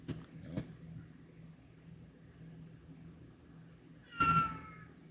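A cat meows twice in quick succession at the start, faint and short, and a longer, louder meow follows near the end, over a low steady hum.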